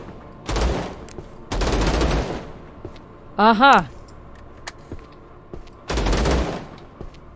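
Bursts of gunfire from the video game Vladik Brutal come in three loud volleys, separated by a brief rising whine and a short spoken interjection.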